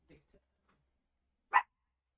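A pet dog lets out one short, sharp bark near the end, preceded by a few faint low murmurs in an otherwise quiet indoor room.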